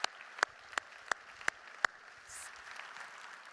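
At a corporate keynote, a handful of sharp, isolated handclaps ring out about every third of a second, faint and sparse over a quiet room before fading.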